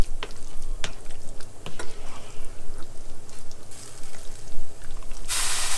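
Spinach gratin mixture being stirred and blended in a pan on a stovetop, giving a steady wet scraping and sloshing with a few sharper clicks of the utensil against the pan, close and fairly loud, with no talking.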